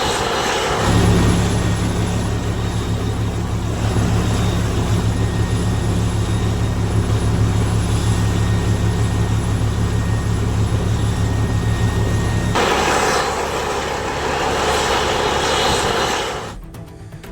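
A special Indian Air Force aircraft delivering exam papers in Akola, Maharashtra, keeps up a loud, steady engine roar with a low hum, then changes tone and fades near the end.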